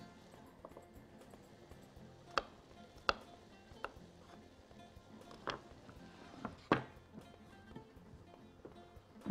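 Garlic cloves chopped into large pieces with a knife on a board, a handful of sharp, separate knocks spaced irregularly against quiet kitchen background.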